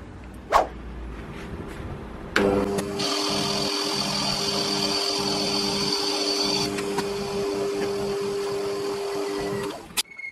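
A homemade milling machine cuts steel to clean up a part, a steady loud whine and grinding hum running for about seven seconds after a sharp start, then cutting out near the end.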